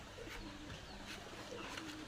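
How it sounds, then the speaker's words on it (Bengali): Domestic pigeons coo softly in a farmyard coop where several pairs are raising young, with low, faint murmuring calls repeating against a steady background hiss. "কবুতরগুলি উড়তে আছে সুন্দর মতন।"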